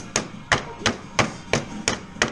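Hammer blows knocking a dirty radiator out of a car, seven sharp metallic strikes in a steady rhythm, close and loud with no talk.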